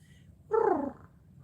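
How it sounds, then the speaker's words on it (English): A contented male cat purring and giving a short trill, one brief rising-falling chirrup near and clear over a soft steady purr. "He's purring right now. He's trilling a little bit like."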